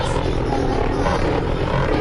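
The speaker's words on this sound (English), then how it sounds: "commence attack chopper" Attack helicopter in the shooter Black Ops Cold War, a steady broadband rotor-and-engine drone that stays loud and constant throughout, dense and unbroken, with no clear speech in the mix.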